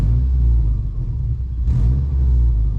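Car engine idling at about 700 RPM while diagnosed for a misfire, a steady low rumble with a brief rise in revs near the end, close and loud, with no talking.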